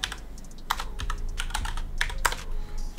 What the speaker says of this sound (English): I'm gonna go type in my webpage here